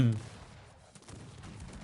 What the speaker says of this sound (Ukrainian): Гармати настрілюють.